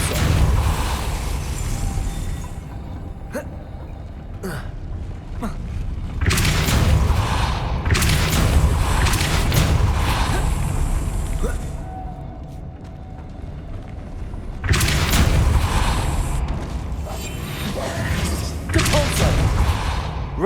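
Depulso force spell cast in Hogwarts Legacy: sharp magical bursts and thumping impacts in several loud clusters over a steady game ambience, with no one speaking.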